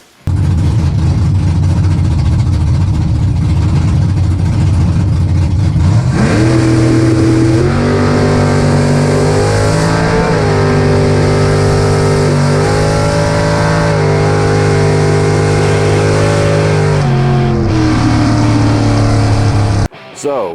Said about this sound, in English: with that run, the car launched straight actually, and I was okay with it